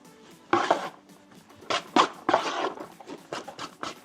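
Cooked sushi rice is folded with a vinegar dressing in a bowl, giving scattered knocks, taps and short scraping strokes at an uneven rhythm, fairly close and clear.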